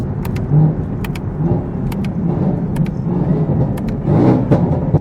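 A tuned Chevrolet Camaro ZL1 drives on the road, its engine a deep, close rumble heard from inside the car, swelling near the start and again toward the end as the throttle opens, with a few sharp clicks over it.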